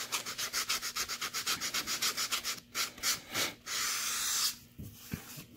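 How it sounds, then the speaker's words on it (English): Fine sandpaper, around 2000 grit, rubbed lightly over an etched steel knife blade: quick rhythmic strokes, about a dozen close and quiet, then a few slower longer passes. "just go in and lightly sand over the spot that you just etched."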